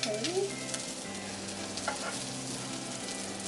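Thin battered beef slices sizzle and fry in a frying pan, a continuous crackling hiss with faint clinks near the start, close and moderately loud with no talk.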